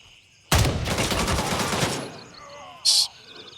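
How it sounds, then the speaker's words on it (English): Automatic gunfire in the military shooter Gray Zone Warfare: a loud, dense burst of rapid shots lasting about a second and a half, followed after a pause by one short, sharp crack. "Who's shooting me?"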